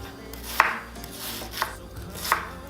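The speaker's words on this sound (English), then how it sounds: "I'm slicing up an onion" A knife slices through a red onion on a cutting board, three distinct crisp chops spaced about a second apart, close and clear against a quiet background.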